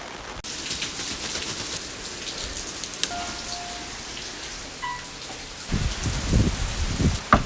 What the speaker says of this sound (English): it was raining so bad that I actually had to change my clothes